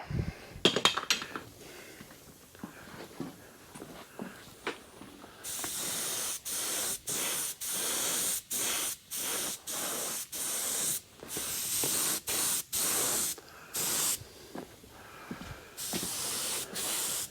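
A spray can lays a second coat of coating on a vehicle windshield frame under repair, in repeated long hissing bursts of about a second each with brief gaps, loud and close, after some scattered clicks and handling noises.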